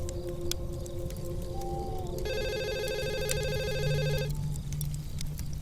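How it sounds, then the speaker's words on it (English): A telephone rings in a steady electronic trill for a few seconds against a low background hum, clear and fairly close, with no one talking. "I was awakened by the ringing of the phone."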